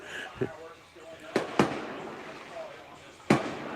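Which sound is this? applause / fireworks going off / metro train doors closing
fireworks going off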